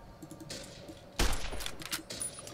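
Gunfire in Fallout New Vegas, heard as a sudden burst of rapid shots midway that settles into a rattling fusillade, with lighter clicks and taps beforehand and no speech.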